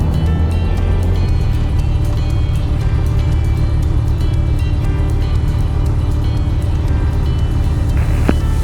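Loud, steady engine drone from a Tecnam P2002JF light aircraft freshly fitted with a new engine, heard close up and continuous with a constant low hum and no talk.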